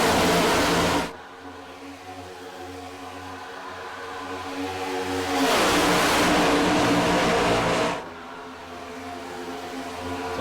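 NASCAR stock cars racing in the iRacing simulator at the Quaker State 400, engines roaring loud and steady, with a close car swelling past and then dropping away as the pack drones on.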